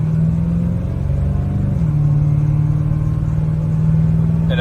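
A 1940 Mercury Coupe street rod with a Ford V8 pulls away, its engine a loud, steady low rumble from inside the car that rises slightly in pitch as it accelerates, with no talking.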